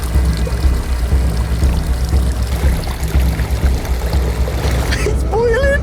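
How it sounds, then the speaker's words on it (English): Boiling river water pours steadily into a pot holding an egg, a close, continuous splashing rush beside the Amazon, ending with a brief voice near the close. "put it in this pot with some boiling water from the river directly"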